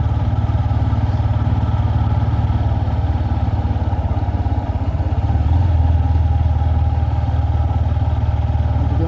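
A Royal Enfield Himalayan motorcycle engine thrums steadily while riding on an autumn day in Latvia, a loud, continuous low single-cylinder chug with wind noise throughout and a slight rise in revs midway.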